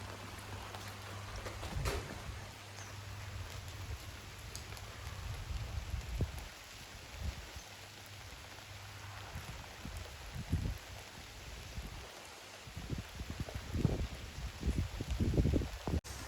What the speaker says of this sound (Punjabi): ਮੀਂਹ ਬਹੁਤ ਪਈ ਜਾਂਦਾ